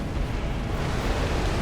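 Midir the dragon's fire attack in Dark Souls 3: a dense, continuous low roar of rushing flame, loud and steady throughout.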